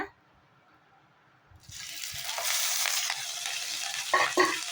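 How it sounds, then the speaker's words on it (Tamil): Ginger and garlic hit hot oil in a kadai after a quiet moment and burst into a steady, close sizzle, with a couple of utensil clinks near the end. "ஒரு கடாயில் எண்ணெய் ஊற்றி நல்லா எண்ணெய் சூடாகினதும் நம்ம எடுத்து வச்சுருக்க இஞ்சி பூடை இதோட ஆட் பண்ணிக்கலாங்க"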